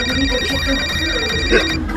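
A cellphone rings with a steady electronic tone that repeats for nearly two seconds, loud and close, over a low background hum. A brief voice is heard near the end.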